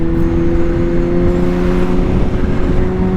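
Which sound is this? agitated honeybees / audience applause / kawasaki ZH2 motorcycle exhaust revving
kawasaki ZH2 motorcycle exhaust revving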